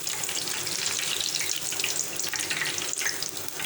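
Green chillies and curry leaves frying in hot oil give a steady, loud, close hiss with fine crackling throughout, with no talking.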